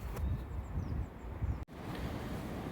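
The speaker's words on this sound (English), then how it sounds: "the wind's still up" Wind gusting across an outdoor allotment, a steady low rumbling buffet against the microphone with a faint rustle, brief and fairly loud, no voices.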